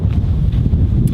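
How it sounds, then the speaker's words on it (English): Wind buffets the microphone outdoors at Cathedral Cove, New Zealand, as a loud, continuous low rumbling roar throughout the brief moment, with no voices. "windy here"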